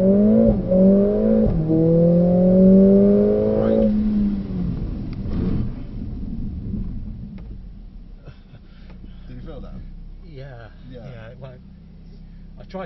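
A Mercedes-AMG 45 S accelerates up to 70 on a track, its engine rising in pitch through a couple of gear changes before fading, with a voice talking over the cabin noise.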